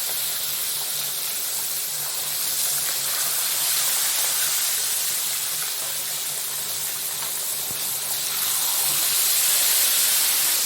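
Medium 250-gram gourami frying in hot oil for Sundanese pecak, a steady loud sizzle and hiss that swells slightly near the end, with no talk.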